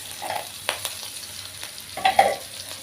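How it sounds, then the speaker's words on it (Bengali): Water poured into a frying pan of sizzling spices with radhuni and green chili, for a small-fish and spinach dish, giving two sharp hissing bursts over a low crackle, close up with no talking. "এবার সামান্য আমি জল দিয়ে দেব।"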